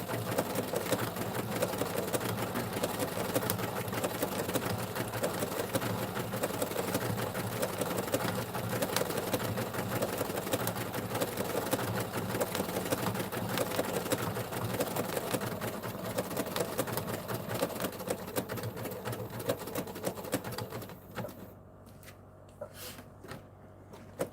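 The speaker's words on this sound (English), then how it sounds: "we can also get a closer view of the sewing machine in action" A sewing machine runs steadily with a fast, continuous mechanical whir, fairly close, then slows and stops near the end.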